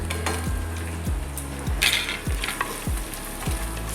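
Gongura sorrel leaves fry in a clay pot with a loud, steady sizzle, while a utensil stirring and scraping against the pot sends rhythmic knocks about every half second.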